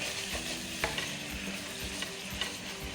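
Curry cod fish cooking in a pan, with a steady soft sizzle and occasional scraping stirs and clinks of a utensil, close and fairly quiet, with no voices.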